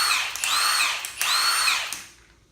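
A Milwaukee M18 Fuel power tool running on a 5 amp hour battery whines in two loud, close bursts with a brief dip between, then spins down and fades toward the end.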